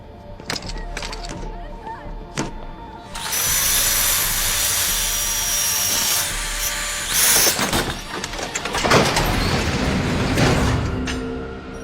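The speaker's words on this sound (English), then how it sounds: "I got a grinder." A power grinder cuts into something in a tense standoff scene, a sustained loud metallic whine with sharp bursts and cracks, nearly continuous, with shouting around it.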